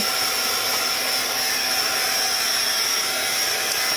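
A hair dryer blowing on a scrap paper collage runs as a steady, loud whoosh with a high whine, unbroken for the whole stretch and with no voices over it.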